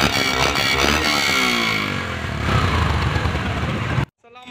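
A 2016 Yamaha YBR 100cc motorcycle in used condition runs at a used-bike market in Karachi. The engine holds a steady, loud drone with a slight rise in pitch, then stops abruptly near the end.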